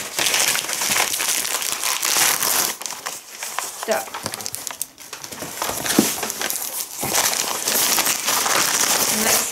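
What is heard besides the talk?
unpacking a parcel, crumpling wrapping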